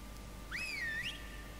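A player character's whistle in the video game ARK: Genesis, one clear rising-and-falling tone lasting about half a second over a steady low hum.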